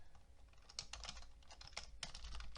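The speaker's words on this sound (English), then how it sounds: "And so I'm going to type in here" Keys clatter on a computer keyboard in quick, uneven bursts of typing, close by and fairly quiet, with no voices.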